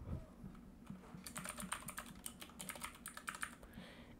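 A meeting title is typed on a computer keyboard, a quiet, rapid run of light plastic key clicks lasting a few seconds with no voice.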